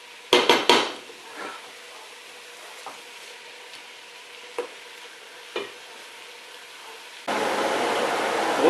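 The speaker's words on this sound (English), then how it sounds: "the easy thing to do is actually just mix them like gently" Onions for French onion soup are gently stirred in a pot, with a few sharp clanks at the start, then sparse soft scrapes over a low hiss and a louder steady hiss at the end.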